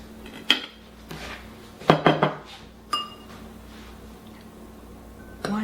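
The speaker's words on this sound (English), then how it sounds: "So I happen to have a bowl and a spoon here." A spoon clinks and scrapes against a bowl while hot fudge cake is served, several sharp close knocks in uneven bursts over a quiet background with no talk.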